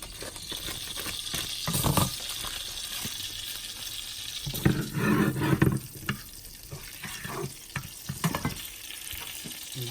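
Butter frying in a pan with onions, a soft continuous sizzle with scraping stir sounds and occasional louder bursts, close and steady.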